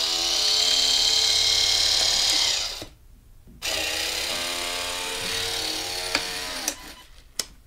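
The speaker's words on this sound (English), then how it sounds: "here I have the kit with a never rest 40-to-1 ratio spur gear motor mounted" 40:1 ratio spur gear motor driving an X-Rail slide kit, a loud steady electric whine that cuts out briefly, then resumes at a slightly lower pitch with a few clicks near the end.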